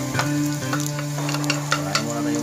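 Garlic sizzles steadily in a hot frying pan, a close, even frying hiss with a few small clicks of a utensil stirring.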